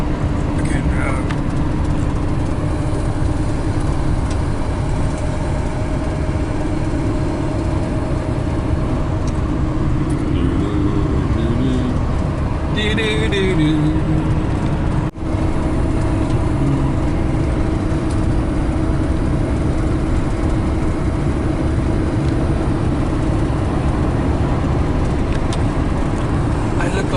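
A car driving along a highway out through a valley near Palmdale, California, with steady, loud road and engine rumble throughout; people talk faintly in the cabin.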